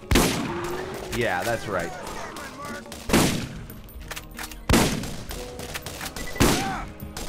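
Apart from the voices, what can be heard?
gunfire in video game Borderlands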